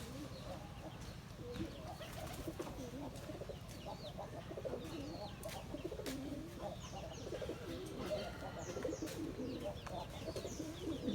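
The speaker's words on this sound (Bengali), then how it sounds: "এই কবুতর দেখেন ডাক শুনছেন" Jalali pigeons coo continuously up close, with overlapping throaty rolls and occasional chirps over a steady low background.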